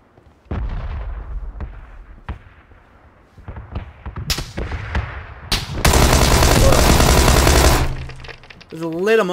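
Gunfire in PUBG: scattered single shots, then a dense, loud burst of rapid fire lasting a couple of seconds, with a voice speaking between the shots.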